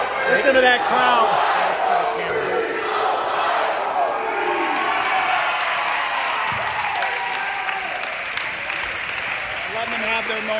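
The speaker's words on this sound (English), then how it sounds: "Listen to that crowd." A basketball crowd at a Michigan State versus Grand Valley State game roars with sustained cheering, clapping and whoops, loud and enveloping, while an announcer talks over it.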